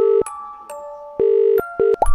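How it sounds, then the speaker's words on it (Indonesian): An incoming phone call rings as a repeating electronic tone, with short bursts and pauses plus a few brief higher chirps, loud and close with no voices. "Dia nelpon."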